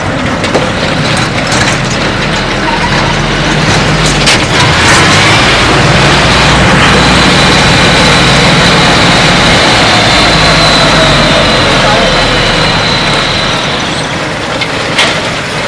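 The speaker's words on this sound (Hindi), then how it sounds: "इसी ट्रैक्टर से हम लोग जा रहे हैं अंदर।" A mini tractor drives down a ramp into a basement, its engine droning loud and steady with mechanical clatter and rattling throughout.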